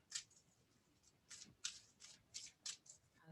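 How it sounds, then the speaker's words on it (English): A deck of playing cards being shuffled by hand, several quick riffling bursts in a short rhythmic series, close and fairly quiet, with no talk over it. "I'm going to shuffle these real quick for you."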